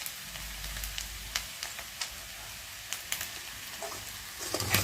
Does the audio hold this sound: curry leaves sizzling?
yes